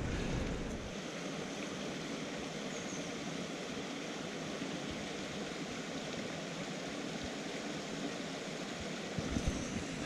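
A small tributary stream on Dartmoor flows in a steady, broad rushing wash close by, continuous and unchanging, with no voices.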